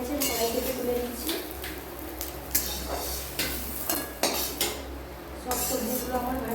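Fried capsicum for paneer fried rice is lifted out of a wok with a metal spatula. It gives repeated sharp scrapes and clinks over a faint sizzle, with a low hum underneath.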